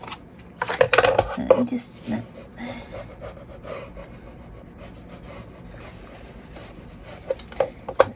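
Scissors snipping the corners off paper for a handmade mini album, a few close crisp cuts clustered early with more snips near the end, and a person talking briefly over it.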